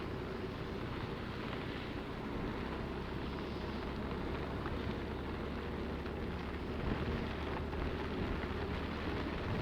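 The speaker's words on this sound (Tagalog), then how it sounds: "Uy, grabe ang ulan." Heavy rain falls during a Honda Beat V2 scooter ride from Manila to Samar, a steady dense roar of rain and wind noise with no talking.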